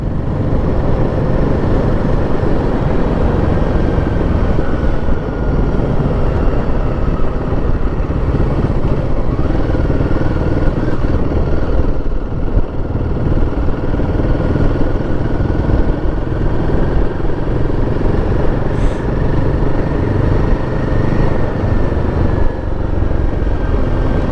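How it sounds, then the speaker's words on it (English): A motorbike or large scooter follows close behind a Royal Enfield Guerrilla 450 on the road, its engine a steady, continuous drone mixed into the rider's own engine and wind rush for the whole stretch, with no talk. "I wonder if this is a motorbike or a scootery thing behind me"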